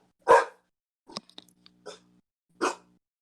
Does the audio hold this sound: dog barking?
yes